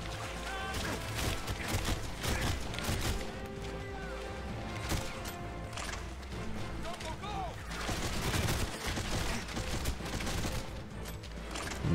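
Rapid gunfire and bursts of shooting in a first-person shooter video game, dense and continuous over the whole stretch, with game sounds layered together and some voice mixed in.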